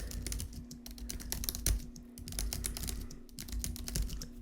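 Steady, rapid typing on a computer keyboard while filling in a PDF form, close and clear, with continuous clicking keystrokes and no talk.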